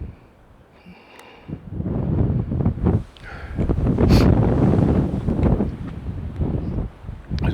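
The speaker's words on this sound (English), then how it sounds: "It's very windy out here." Strong desert wind buffets and roars across the microphone in gusty, uneven surges, loud and close, with faint rustling underneath.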